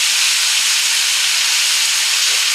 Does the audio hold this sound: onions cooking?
yes